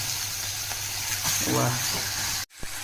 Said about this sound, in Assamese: এতিয়া আমি গাহৰি মাংসখিনি দি দিম ইয়াতে